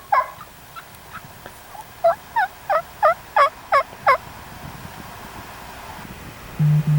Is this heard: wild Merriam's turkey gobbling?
yes